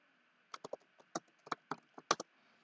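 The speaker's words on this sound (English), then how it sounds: "if I'm typing here" Keys on a computer keyboard tapped in an irregular run of a dozen or so crisp, close clicks, with short pauses between bursts, alone in a quiet room.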